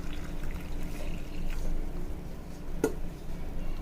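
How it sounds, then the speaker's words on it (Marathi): Water is poured into a bowl of sattu flour seasoned with black salt, plain salt and cumin powder. It makes a soft, continuous, close trickle, with one brief clink near the end. "आणि पाणी घालायचं ह्याच्यामध्ये"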